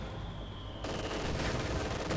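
A Soviet scout car's mounted autocannon in Company of Heroes 2 fires a sustained rapid burst of shots that cuts in abruptly and continues loudly to the end.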